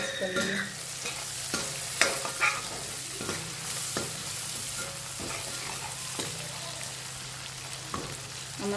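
Spiced mixture of turmeric, asafoetida, coriander-cumin powder, garam masala and salt stirred in a frying pan, with repeated scraping spoon strokes over a steady low sizzle, close and alone.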